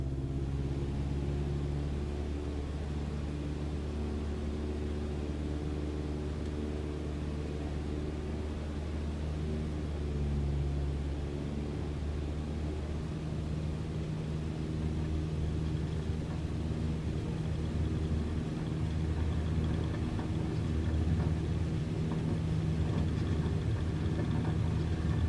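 A Cessna engine in a flight simulator game holds a steady droning hum at full power for takeoff, with layered tonal hums and faint rushing air, constant and unbroken for about 25 seconds.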